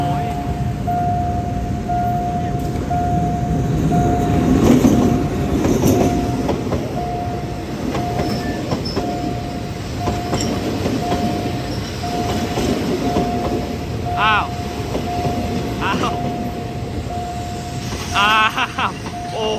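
A State Railway of Thailand passenger train from Krabi, with third-class coaches covered in graffiti, rumbles past close by with steady clickety-clack and a few brief wheel squeals, a constant high whine running throughout.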